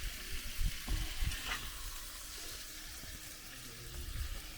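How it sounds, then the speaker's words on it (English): Italian sausages, onions and peppers fry in a pan at a cliffside campsite, giving off a steady, even sizzle with a few soft low knocks and stirring sounds. No one speaks. "Got us some sausages, Italian sausage, onions, and peppers going on here"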